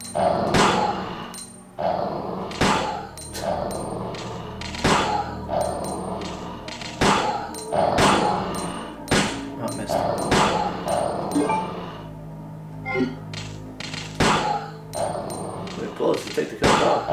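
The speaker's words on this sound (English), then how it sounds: "There's dogs here" Dogs in the classic Resident Evil 2 video game growl and bark amid repeated sharp thumps and hits, and players talk over the action throughout.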